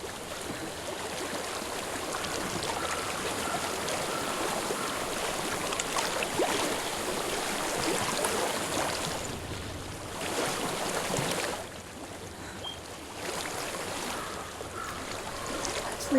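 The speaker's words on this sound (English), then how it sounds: "What do you hear? Water. I hear water." A flowing stream in Hellblade: Senua's Sacrifice, a steady rushing and splashing wash of water that stays close and continuous for the whole stretch, dipping only briefly in loudness.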